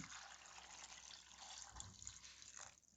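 Water poured into a pot of cut, washed vegetables for a pickle, a faint, continuous trickling pour lasting a few seconds before stopping abruptly.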